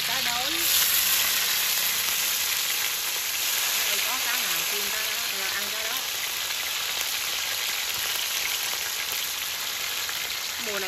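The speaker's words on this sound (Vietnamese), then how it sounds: "là mình chiên cá" Fish, seasoned with salt and lemongrass, fries in hot oil in a rural home kitchen, giving a loud, steady, close sizzle throughout while people talk over it.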